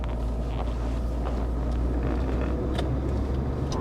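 Interior drone of a Citroën Xantia Break 2-litre estate pulling at low revs in third gear, a steady, low, muffled engine and road hum with faint wind noise, no voices.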